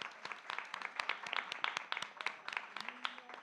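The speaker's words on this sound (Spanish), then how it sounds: "Le damos un fuerte aplauso a Patricia," An audience applauds for Patricia Rosas Lopátegui at a Spanish-language talk event, a dense, steady patter of many hands clapping at moderate loudness for a few seconds with no voices over it.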